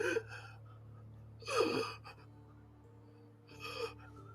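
A voice imitates deep, heavy breathing: three slow, close, breathy gasps separated by pauses, over a faint steady hum.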